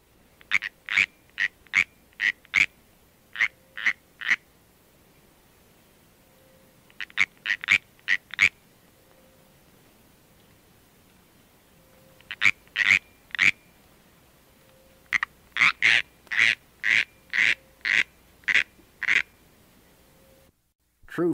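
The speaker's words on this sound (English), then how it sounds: "Here, for example, is a warning chirp of the California canyon tree frog" A California canyon tree frog, Hyla californiae, gives its warning chirp: bursts of rapid, evenly spaced clicking notes in several short series separated by pauses, close and clear against a quiet background.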